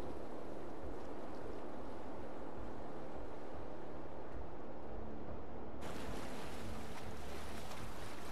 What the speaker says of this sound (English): Some bumpy water.